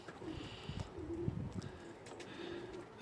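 Racing pigeons coo softly and repeatedly inside a loft, a low throaty murmur that keeps going against a quiet background, with no talking.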